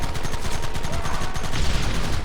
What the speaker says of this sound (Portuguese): Não consigo sair da metralhadora. E tipo, os tiros não alcançam os inimigos lá longe.